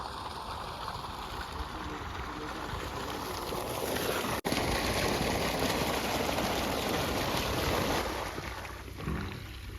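A newly installed borewell motor pump runs outdoors, a loud, continuous rushing of gushing water with a steady mechanical drone and one brief sharp click midway.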